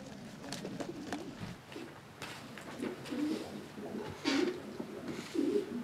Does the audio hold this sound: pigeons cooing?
yes